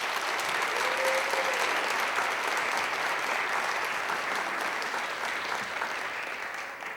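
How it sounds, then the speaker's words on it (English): Sustained audience applause fills an auditorium at a civic event, a dense, steady wash of many hands clapping at even loudness throughout, tapering slightly at the end. "Let's give them all a round of applause."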